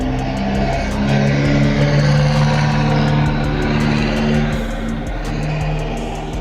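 A car engine idling and revving close by, a loud steady low rumble with a slight surge and dip near the end, with no voices over it.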